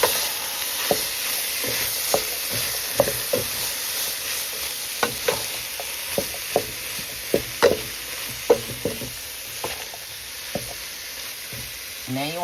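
Chickpeas frying in a pan, stirred with a utensil that gives steady, sharp scrapes and knocks roughly once a second over a continuous soft sizzle, loud and close, with no talking.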